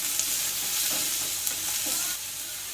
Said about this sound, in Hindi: प्याज आप देखेंगे कि हमने बहुत बारीक कट किया हुआ है, इसको थोड़ा सा हम तेल में चला लेंगे